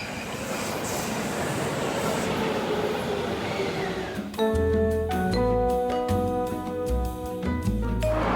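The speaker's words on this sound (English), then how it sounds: "This is so fun, taking the train, switching, and trying to figure everything out." Rumbling train interior noise in Japan that gives way to loud clattering and tonal wheel squeals as the carriage moves along the rails.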